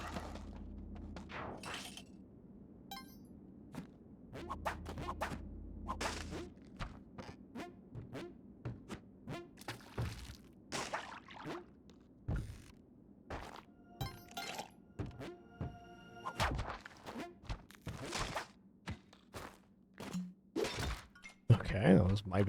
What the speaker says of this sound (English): Good rule in Spelunky just not to throw urns, and that's why.